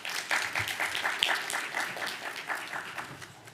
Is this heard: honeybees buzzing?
no